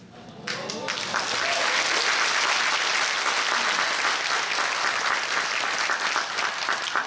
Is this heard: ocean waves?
no